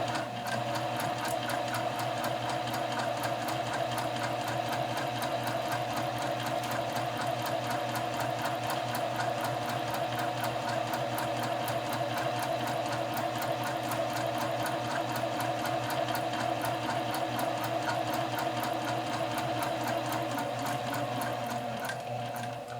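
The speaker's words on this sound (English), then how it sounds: "I'm going to go ahead and sew all along my marked stitch line." A sewing machine stitches steadily along a marked seam line, its rapid even needle clatter and motor whir running continuously and close for over twenty seconds.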